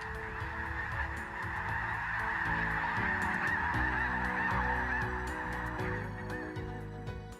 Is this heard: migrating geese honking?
yes